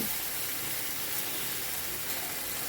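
Ridge gourd fries in a pan over a high gas flame, a steady, dense hiss and sizzle that holds at an even level throughout, with no talking.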